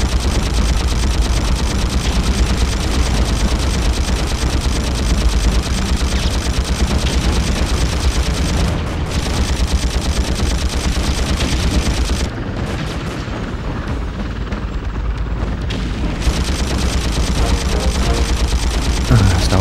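Machine gun fire in a 2002 video game: loud, dense, continuous rattling bursts with booms mixed in, running nearly unbroken through the clip with only brief dips.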